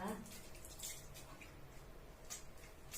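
A real-hair wig, just washed, being squeezed to drain it: faint, scattered drips of water fall a few times in a quiet room, each a brief soft tick.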